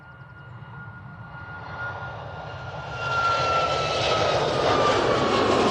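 A Ryanair jet airliner at Manchester Airport makes a steady engine roar that builds and grows louder about halfway through, with a broad rushing hiss and a faint whine above it, and no voices.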